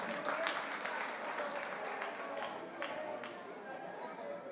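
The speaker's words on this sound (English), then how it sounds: "Give them a round of applause, ladies and gentlemen." Applause from spectators at a Freedom Day boxing tournament after the end of a round, a steady, fairly distant wash of clapping that slowly fades, with murmuring voices underneath.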